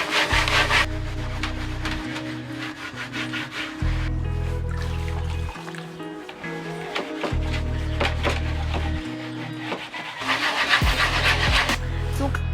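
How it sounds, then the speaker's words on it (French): Stiff brush scrubbing degreaser over van furniture during a renovation, a loud rasping back-and-forth rub in steady strokes, close by with short pauses between bursts. "Donc là, je vais faire avec cette brosse là parce que l'éponge était beaucoup trop mou, ça partait pas."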